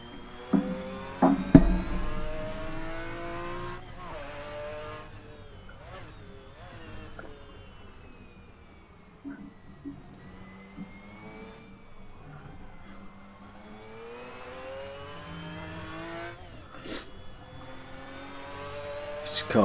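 McLaren F1 GTR race car engine in SRS racing at Silverstone, a steady droning whine that rises and falls with shifts and revs, fairly quiet, with a few sharper bumps along the way.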